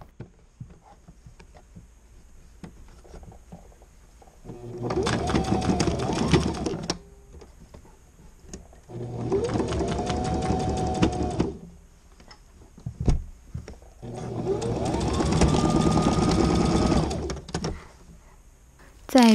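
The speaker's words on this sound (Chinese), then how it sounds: "把应该要缝合的那两个边捏起来，再重新给它一个缝线就好了" Sewing machine stitching a seam on an old stuffed doll, three bursts of steady mechanical whirring separated by quiet pauses, fairly close and clear with no voices.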